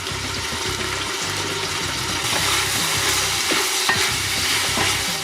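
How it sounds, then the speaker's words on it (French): Spices fry in olive oil with onions and peppers, a close sizzle broken by repeated rhythmic stirring scrapes and clatter, with no one talking. "On laisse comme ça griller les épices dans l'huile d'olive avec les oignons et les poivrons"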